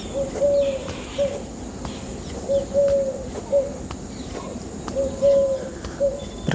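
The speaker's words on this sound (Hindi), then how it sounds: "चिड़ियों की बड़ी सुंदर बीच में आवाज़ आ रही है" Birds call outdoors during a yoga and fitness session, with repeated soft cooing phrases like a dove or pigeon returning every second or two over a low background hum.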